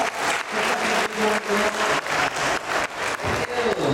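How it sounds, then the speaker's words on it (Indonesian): Sustained applause from a seminar audience fills the room, a dense continuous clatter of many hands with slight swells and dips, close and loud, no voices on top. "Tepuk tangan saya lagi untuk Bapak"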